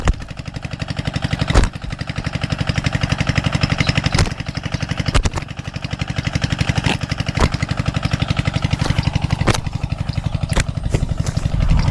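A motorcycle engine runs steadily close by, a loud continuous idling rumble with rhythmic clatter and a few sharp knocks, no voices over it.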